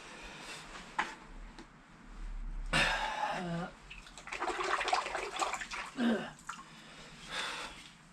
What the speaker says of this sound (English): let's see what happens when I put it in the bucket of water